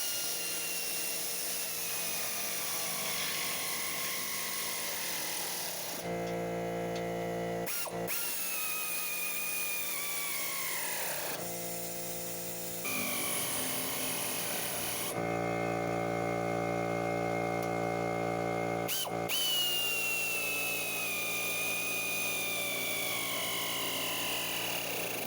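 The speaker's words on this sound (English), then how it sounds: "now that my air compressor's off" Air compressor running steadily nearby in a work area during a winch plate install on a 2013 Ford F-150 XL, a loud continuous mechanical whine and hum with abrupt cut-outs and restarts.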